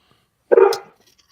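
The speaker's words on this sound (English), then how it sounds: "See, the dog's talking back." A single short dog bark, close and loud, in an otherwise quiet evening outdoor setting.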